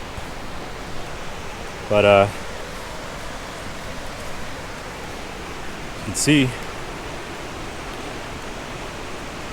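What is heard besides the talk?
water flowing through a dam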